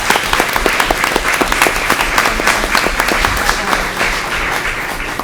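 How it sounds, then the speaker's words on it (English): Audience applause at a Putnam Valley school board meeting, a dense, steady patter of many hands clapping close by for the full duration without pause. "they really deserve a round of applause for supporting us."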